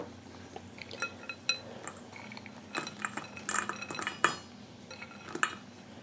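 Utensils clink and scrape against bowls as the last biscuit ingredients, including a trial batch with cranberries and white chocolate, are mixed in several bowls, giving irregular close taps and clatters over a quiet kitchen background.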